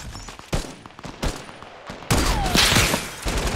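Gunshots in the battle royale game Fortnite: a handful of sharp, loud cracks with short gaps between them, then a denser burst of firing layered over game ambience.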